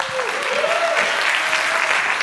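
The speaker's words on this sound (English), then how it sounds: "A round of applause for Julia, please." A TEDx audience claps steadily for an on-stage volunteer, a dense, close wash of applause filling the whole moment, with a brief voice faintly sounding over it.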